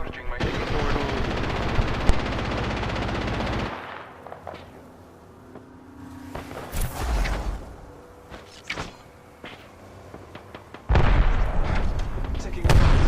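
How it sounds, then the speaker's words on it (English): Automatic weapon fire in Apex Legends, a dense loud burst of rapid shots at the start, then quieter scattered shots and effects, and a second heavy burst near the end, with game voice lines in between. "I'm taking shots."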